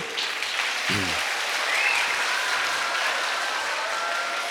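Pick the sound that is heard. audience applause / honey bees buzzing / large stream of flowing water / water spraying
audience applause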